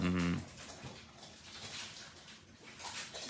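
A dog whimpers at the start in a short, fairly close whine, then quieter shuffling sounds follow with no clear voices.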